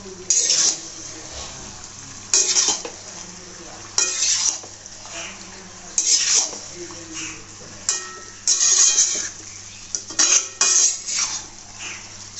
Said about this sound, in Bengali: এখন আমি এটাকে একটু নেড়ে চেড়ে দেবো ভালো করে, যেন তলায় লেগে না যায়।